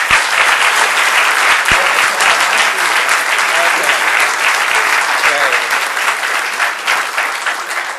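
An audience applauds at a lecture given by an archbishop, a loud, dense wash of clapping that holds steady for the whole stretch before easing slightly at the end, with no voices over it.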